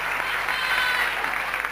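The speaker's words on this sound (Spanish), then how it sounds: "Estamos aplaudiendo en usted." Studio audience applauding a guest during a televised Argentine comedy interview program, a dense steady wash of clapping that holds at even strength throughout.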